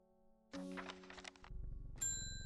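A bell rings in the video game Strange Horticulture: a struck metallic ding with lingering ringing tones, then a second bright chime near the end, heard alone.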